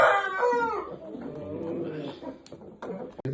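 A rooster crows loudly and close by, a long strained call, with clucking and a brief voice murmuring underneath.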